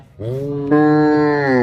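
A single long, loud moo from cattle at the Pollachi cattle market rises partway through and holds steadily for over a second, close by with no talking.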